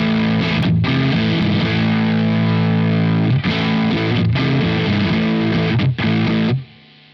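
Electric guitar run through a Lancaster Audio ODR-1 overdrive pedal plugin, playing loud, sustained distorted chords with a few brief breaks before cutting off abruptly into near silence at the end.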